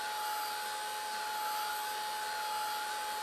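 A heat gun blows continuously while drying a handmade Christmas card, a steady, close, whining whoosh with a constant high tone and no pauses.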